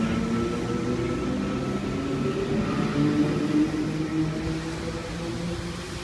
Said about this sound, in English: Here we've got V1 departing platform number 1, Central Sydney Terminal Service.